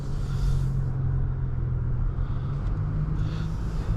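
Low, steady engine rumble of a 2022 Audi S4 Premium Plus cruising through a parking garage at night, heard from inside the cabin, with a slight swell as the car moves along.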